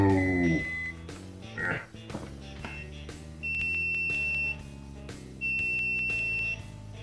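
Continuity beeper of a BSIDE ADMS7 pocket multimeter sounds two long, steady high beeps, each about a second, with a pause between, over background music.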